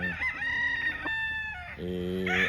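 A young, late-born rooster (stag) kept as a gamecock crows close by in a few strained, rising calls, with clucking in between.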